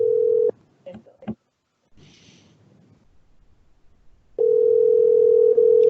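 A steady telephone dial tone sounds loud and close, cuts off briefly for a few soft bumps and noises, then returns and holds steadily while a call is being placed.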